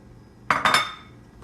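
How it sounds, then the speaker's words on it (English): A utensil stirs vegan cashew alfredo sauce with thawed frozen broccoli in a pan, giving a few quick close clinks and scrapes against the metal that fade out quickly. "Then you stir it."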